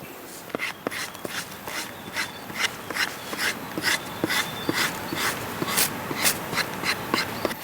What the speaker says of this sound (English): I'll just scrape that fur off and that'll go a long way towards our dinner tonight